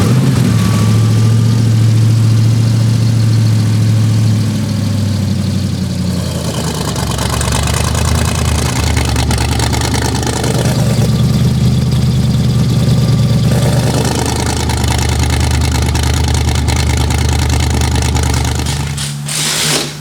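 A rock bouncer's engine runs loud and close with its electric cutout open headers flipped open, a deep raw rumble swelling and easing through a few throttle blips, continuous with no speech.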